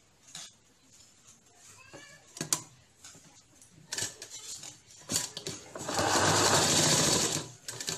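A sewing machine stitches pleats on a dhoti salwar, first in short scattered bursts and clicks, then settling into a loud, fast continuous whirring run before stopping.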